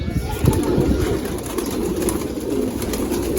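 Pigeons coo in low, soft, rolling calls inside a loft of giribaz birds, layered over one another in a steady murmur, with faint rustling and a brief flutter close by.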